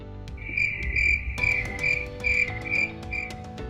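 Crickets chirp in steady, repeated trills, with a second layer of chirping joining partway through, clear and fairly close with no voices.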